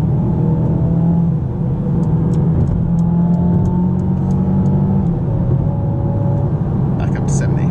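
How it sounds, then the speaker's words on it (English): A Mercedes A200 driving on the road, its engine producing a steady, loud droning rumble with a few rising tones throughout, and a voice present over it. "if you're one for fake engine noises, this is definitely the car for you."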